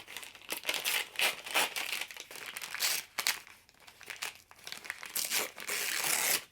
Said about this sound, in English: I'm just going to tear the bag